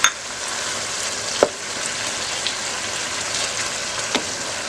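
Sliced tomato cooking with boneless chicken in a biryani pan, an even close sizzle broken by a sharp clack at the start and a couple of light utensil knocks.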